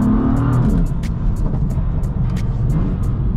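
A 510bhp BMW M3 accelerates hard at night along a high street, its engine droning loud and steady from inside the cabin with a strong low rumble throughout.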